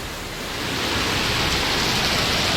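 Steady, dense rain hiss during storm Bernie, a broad even wash of falling water that swells slightly in the first second and then holds constant, with no voices.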